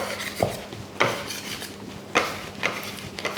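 A dough scraper rasping across a table under sourdough being shaped, with several short, close scraping strokes in an irregular rhythm and no talk.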